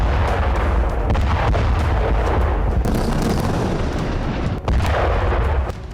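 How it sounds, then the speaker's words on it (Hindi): Israeli army bombing and artillery fire on residential areas of Gaza: a heavy, continuous rumbling roar with sharper bursts scattered through it, loud and sustained throughout, with no voices. "रिहायशी इलाकों पर बमबारी की जा रही है।"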